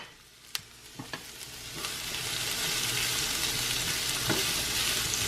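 Tofu cubes hit a hot pan with onion and garlic, a few knocks and clatters at first, then a sizzle that swells into steady, loud frying.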